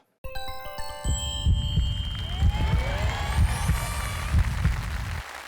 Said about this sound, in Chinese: 看大屏心跳。